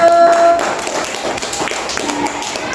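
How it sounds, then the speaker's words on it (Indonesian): A classroom group claps for a student, a burst of scattered handclaps close by, with a sustained tone and some murmuring over the first half second. "Oke, terima kasih buat Dimas, tepuk tangan dulu."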